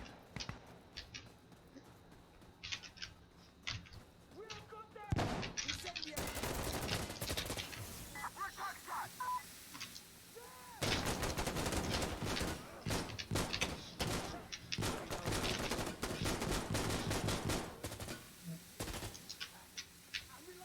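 A full-size AK-74 rifle fired in the Insurgency Sandstorm video game, at a lower rate of fire: loud bursts of gunfire after a quiet start, a short volley, then a longer stretch of rapid shots with brief pauses.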